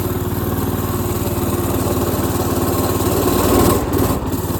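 A mini bike engine runs hard up a hill in a steady, loud, close buzzing drone, with a slight swell in effort near the end.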